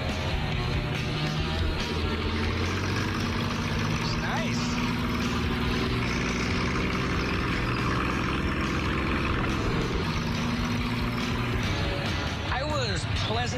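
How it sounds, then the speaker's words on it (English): A 1927 Essex rat rod on a test drive gives off a steady, loud engine drone with rumbling road noise that shifts slightly partway through. "I figured I'd take it for a test drive and see how it goes."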